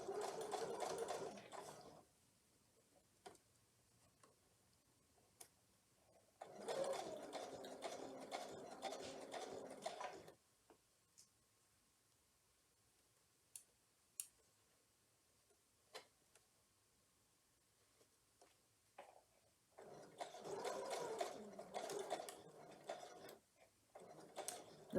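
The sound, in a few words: sewing machine sewing double wedding ring quilt curves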